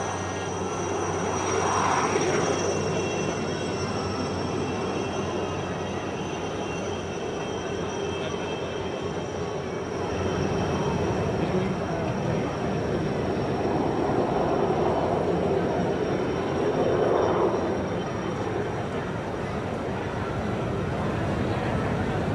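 A broad, steady rotor and engine roar fills the air as a synchronized flypast of 40 helicopters passes during a tribute, with the throbbing noise swelling slightly twice, and a commentator speaking over it.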